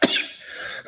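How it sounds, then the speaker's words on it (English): A single sharp cough bursts out up close, then a rough, breathy tail trails off for most of a second, loud and alone. "All this coughing and sneezing and wheezing"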